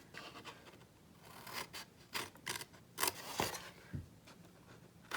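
Scissors trim scored paper for a jam jar craft pattern, making a quick series of crisp, close snipping and scraping cuts at an uneven pace, quiet and alone with no speech.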